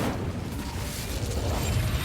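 The Incendio fire spell cast in Hogwarts Legacy, a dense, roaring burst of flame and crackle that holds steady at moderate loudness for about two seconds, with no voices.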